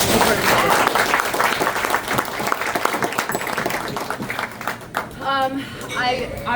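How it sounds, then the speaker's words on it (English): A fundraiser audience for a Rhode Island Senate District 25 candidate breaks into loud, sustained applause that thins out toward the end as a person begins speaking over it. "So could you guys give him a round of applause"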